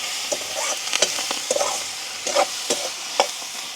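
Curry leaves are stirred into a hot pan of frying spices for a Sri Lankan village curry, a soft continuous sizzle with scattered spoon scrapes and light knocks, close by and without talk.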